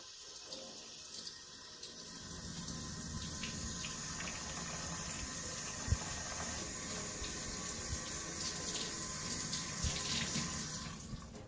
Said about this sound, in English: before you do your actual scrubbing in, what you want to do is do a pre-hand wash